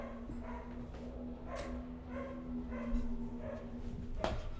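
Dogs barking inside a house, a few muffled barks and yips from behind a door over a steady low hum, fairly faint and scattered.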